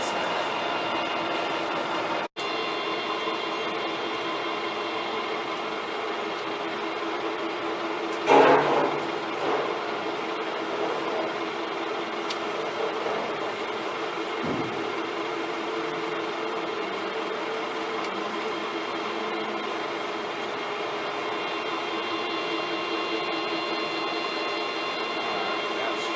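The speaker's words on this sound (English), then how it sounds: "drill into this as far as we can with the drill bit" A drill bit bores into a pulley sheave turning on a lathe, giving a steady, fairly faint machine whine and hum that runs throughout, with a brief clatter partway through.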